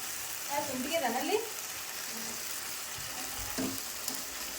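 Fried gobi manchurian cauliflower pieces stirred into a cornflour sauce in a hot pan, giving a steady close sizzle with a few scraping stirs and a faint voice in the background.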